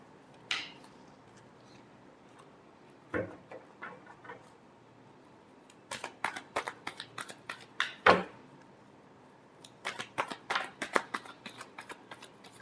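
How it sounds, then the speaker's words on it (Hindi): Tarot cards are shuffled by hand in quick papery flutters and taps. The sound comes close and fairly soft, with a burst early on and denser runs in the second half. "Last shuffle."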